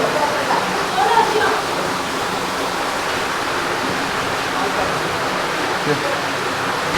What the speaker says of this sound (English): There is some underground waterfall here.